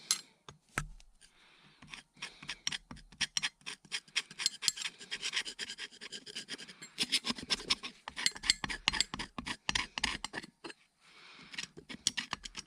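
Dried residue being scraped off a carburetor from a TS 185 motorcycle with a tool harsher than a paintbrush, heard as close, irregular rasping and scratching strokes in quick bursts with brief pauses, no talking.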